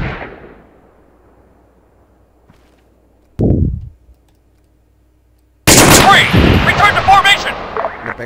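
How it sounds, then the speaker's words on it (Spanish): Grenade launcher fire from an enemy grenadier in Arma 3 strikes near a squad. A loud sharp blast lands around 3.4 s, and a longer, heavier crashing burst of explosion and gunfire rings out from about 5.7 s onward. Between the blasts there is near silence. "Nos dispara granadero."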